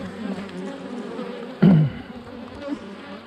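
Bees buzzing at a hive while a small swarm is being gathered, a steady close drone with one louder, brief surge of buzzing partway through.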